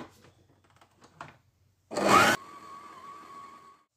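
A mixer works brioche dough with milk and yeast: a short, loud whirring burst, then a steady, quieter motor hum that runs on for a couple of seconds before stopping.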